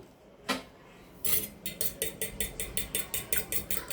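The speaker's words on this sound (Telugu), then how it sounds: "ఇప్పుడు అంతా మిక్స్ చేసేద్దాము." A utensil clinks and scrapes against a metal bowl or pan while ginger garlic paste is mixed into a sandwich filling. There is a single knock first, then a quick, steady run of repeated close, bright clinks with no talking.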